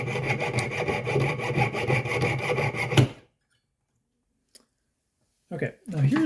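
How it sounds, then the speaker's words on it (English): Jeweler's saw cutting through a sterling silver ring, rapid rasping back-and-forth strokes for about three seconds, then a pause with a small click, before scraping resumes near the end. "I'm trying to line my saw cut so that it goes and lines up with my original cut here"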